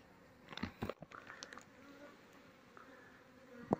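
Faint buzzing of an Asian honey bee (Apis cerana) swarm hanging on leaves close by, with soft rustling and a few light taps against leaves.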